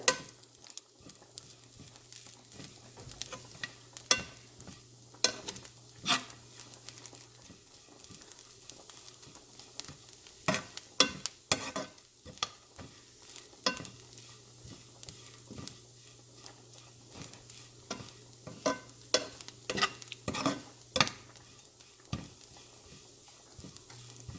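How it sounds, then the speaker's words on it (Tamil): Tiny prawns fry in oil, a light crackling sizzle with frequent sharp pops and stirring clicks over a low steady hum. "இப்போ தான் நாங்கள் விட்ட எண்ணெயில் அது பொரிய தொடங்குது"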